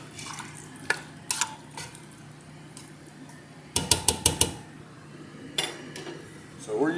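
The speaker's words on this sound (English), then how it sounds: "we'll give this a little stir as we get started here" A spoon stirs Brunswick stew in a pot, giving scattered scrapes and clinks against the metal, including a quick burst of four or five knocks midway, with quiet background sounds between.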